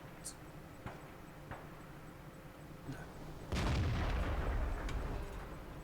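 A single heavy tank gun shot in World of Tanks, a loud deep boom that swells up abruptly and rumbles on under faint background game noise, after a stretch of quieter ambience with light clicks.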